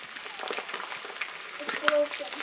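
Eggs fry in a cast iron pan with a faint, steady sizzle and crackle, then a brief clink near the end.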